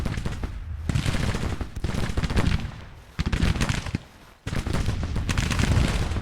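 Dense, continuous rifle volleys and crackling gunfire from a Civil War battle in the game GT:CW, loud and close with brief lulls between bursts, no talk.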